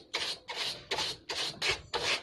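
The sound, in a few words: brush bristles scrubbing air conditioner fins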